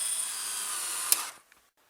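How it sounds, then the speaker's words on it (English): A power driver runs steadily for just over a second as a screw goes into a 2000 Jeep Cherokee Sport dashboard, then stops with a short click, leaving a small tap and quiet after it. "And now I'll just put the screws in."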